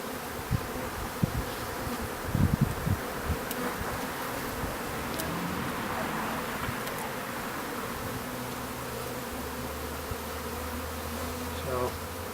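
Honey bees buzz in a continuous, fairly quiet drone while being installed in a hive with a candy plug, with a few individual bees passing closer and some faint handling noises.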